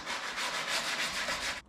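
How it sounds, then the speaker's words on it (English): A sanding block rubs back and forth over a trimmed Ski-Doo DS4 ski in a continuous, close, raspy scrubbing with gentle pulses, stopping abruptly near the end. "just clean it off with the sanding block a little bit"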